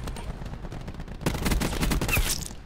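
Gunfire in Call of Duty: Black Ops 4, unsilenced: a quieter stretch of scattered shots, then a loud close burst of rapid automatic fire.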